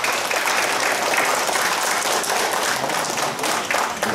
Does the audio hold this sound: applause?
yes